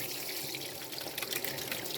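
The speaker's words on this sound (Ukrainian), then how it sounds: "змиваю. Бачите, чим гарна оця лійка, що я можу нею керувати наліво-направо" Water sprays from a handheld shower head in a steady, soft hiss as a surface is rinsed clean, with no talking.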